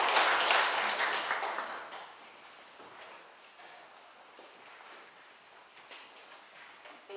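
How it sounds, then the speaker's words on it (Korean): Applause from a seated audience at an urban-regeneration college entrance ceremony bursts up loudly at first, then thins and fades to scattered faint claps and room noise. "박수로 맞이해 주시면 감사하겠습니다."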